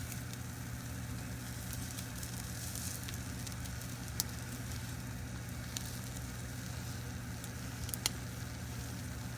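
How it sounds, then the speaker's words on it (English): A steady, soft sizzle of an omelet frying in a pan, with a few faint clicks and taps, no talking. "That's the noise you want to hear when it starts sizzling."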